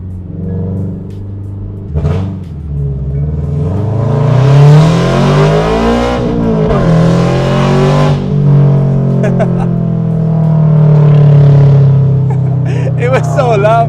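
A Toyota GR86 with unequal length catless headers accelerates, its loud exhaust droning and rising in pitch through the gears, rasping close up, with people talking over it.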